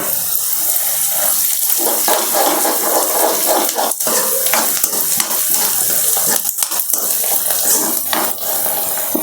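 Ginger garlic paste hits hot oil in a pan for pakodi curry, giving a loud, steady sizzle with stirring scrapes throughout and a few brief clatters.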